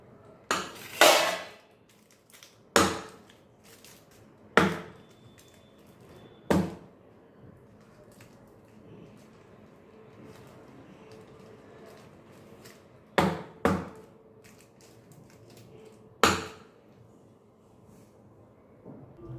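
A cake tin of lemon rava cake batter, made without maida, wheat or egg, is rapped against a surface in sharp metallic knocks, with a few doubled hits and long quiet gaps, close and clear.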